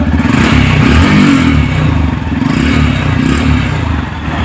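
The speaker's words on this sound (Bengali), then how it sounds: "এখন পিক আপ দিলে গাড়িটার সাউন্ড আসলে কীরকম আসে সেটা আপনারা দেখবেন" Up close, a 2024 Yamaha FZS V3 motorcycle engine revs on the throttle in a few rising and falling surges over a loud, constant exhaust rumble, with no speech.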